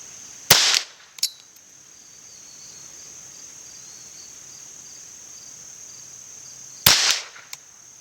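Two sharp Ruger 10/22 takedown rifle shots fired at targets 50 yards away outdoors, one near the start and one near the end, each a crisp crack with a short echo, while steady insect chirping fills the background.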